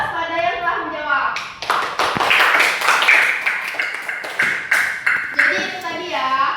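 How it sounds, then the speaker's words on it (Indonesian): Classroom applause for a student group that answered during an Al-Qur'an Hadist lesson, several seconds of brisk, close hand clapping from a small group, with talk before and after. "Kita beri aplaus pada yang telah menjawab"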